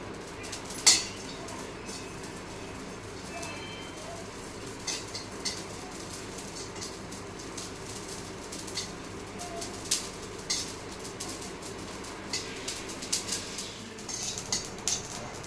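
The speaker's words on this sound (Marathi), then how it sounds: "आता यामध्ये मी जिरो आणि शहाजिरो असे दोन्ही एकत्र भाजून घेणार आहे" Cumin and shahjeera seeds dry-roasting in a pan, with faint scraping and a few soft metallic clinks of a utensil against the pan over a low background hum, without any talk.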